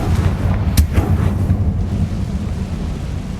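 The Confringo blasting spell in the video game Hogwarts Legacy goes off as one loud, sharp explosive crack. A rumbling, windy boom follows and fades out over the next couple of seconds.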